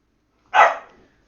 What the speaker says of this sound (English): My little dog is out of control